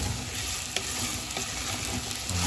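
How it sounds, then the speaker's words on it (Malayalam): Tomatoes and drumsticks sauté in a pan for a Kerala-style king fish curry, with a constant close sizzle and occasional sharp scrapes of a stirring spoon. "നന്നായിട്ട് അങ്ങോട്ട് വഴറ്റുവാണ്"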